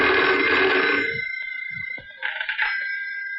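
An old telephone bell rings loudly and fills the first second in a 1976 Bollywood film scene. A softer trilling ring follows after a short pause.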